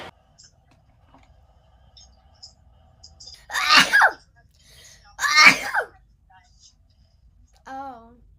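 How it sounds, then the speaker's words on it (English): A girl sneezes twice, loud and close, a few seconds apart, each with a sharp explosive burst amid quiet surroundings, followed by a brief vocal sound. "I've sneezed."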